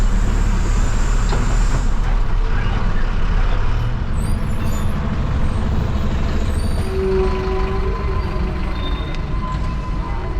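A city bus in Mexico rumbles along with a loud, steady low engine drone and road noise, with a brief hiss like an air brake partway through and no talking.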